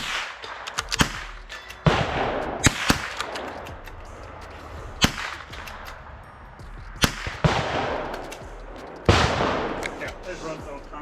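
Rapid bursts of gunfire from a Citadel Trakr rifle at an outdoor range event: sharp, loud reports come in irregular clusters, with echoing decay and some talk between the shots.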